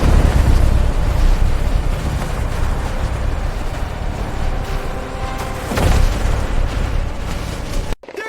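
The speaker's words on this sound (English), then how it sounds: "The explosion hit before either of us could react." A battlefield explosion sound effect erupts as a long, loud rumbling boom with crackling debris that rolls on for several seconds, then cuts off abruptly at the end.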